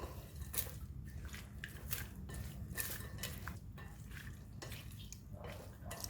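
Corn salad is tossed with crispy anchovy in a bowl, giving soft wet squishing and light clinks of utensils in repeated mixing strokes, fairly quiet and close.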